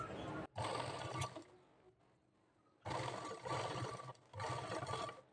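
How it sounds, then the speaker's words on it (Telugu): A sewing machine stitches a blouse in bursts of steady whirring. It runs, pauses briefly, then runs again twice, and the sound is close and fairly faint. "నేనైతే మిషన్ మీద కుట్టేస్తున్నాను."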